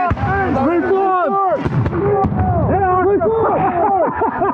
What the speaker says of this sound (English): Watch that cannon!